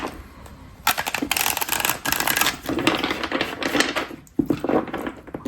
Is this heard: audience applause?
no